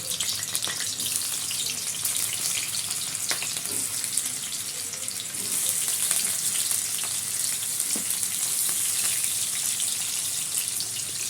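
Paneer pieces fry in white oil in a kadai with a steady, bright crackling sizzle that grows slightly louder midway. A few faint utensil taps sound in the background.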